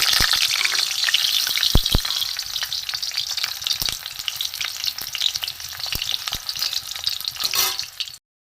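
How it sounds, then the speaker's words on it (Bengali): Semolina-filled papad rolls fry in hot oil, giving a dense, steady sizzle with crackling pops that runs continuously at close range, with no talking over it. "পাঁপড়ের রোল পুর দিয়ে বন্ধুরা ভাজা হয়ে গেছে"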